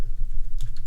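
Fingers typing on a computer keyboard, a short run of quick close clicks in an uneven rhythm, fairly loud with no talking.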